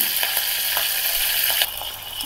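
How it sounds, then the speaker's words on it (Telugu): Loud, steady sizzle of mustard seeds, curry leaves and dried red chillies frying in hot oil for rasam, crackling evenly with a few soft stirring scrapes and a slight drop in intensity near the end. "గిన్నెలో ఆయిల్ పోసుకుని ఆవాలు, కరివేపాకు,"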